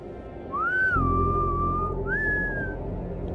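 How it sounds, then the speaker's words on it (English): A creature with five fingers that cannot speak answers in a series of sliding, melodic whistles from a sci-fi drama, two rising-and-falling phrases ringing out clearly over a low background rumble. "you can communicate via whistles, am I correct?"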